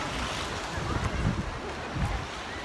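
Ocean waves wash on a rocky sea shore at Old Quarry Bay, rolling in as low, rumbling surges. Wind buffets the microphone throughout.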